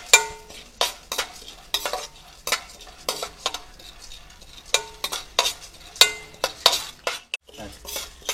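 Chana dal frying in oil in a pan, with a soft sizzle under frequent sharp scraping and clinking strokes of a metal spoon stirring. The strokes come in an uneven rhythm, close by.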